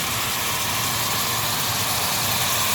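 A kitchen range hood exhaust fan drawing out cooking smoke and odours roars with a loud, steady, unbroken broadband whoosh close by.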